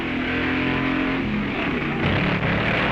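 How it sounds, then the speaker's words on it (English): Two 1950s four-cylinder hot rods race side by side on a drag strip, their engines droning loudly and steadily with shifting pitch as they pull away, no voices heard. "Two four-bangers with Ray Huckabee of Houston, Texas on the spectator side, taking an early lead."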